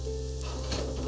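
Sausage, potato and vegetables with garlic and bell pepper fry in a skillet, giving a steady, dense sizzle close by that stays even throughout with no voices.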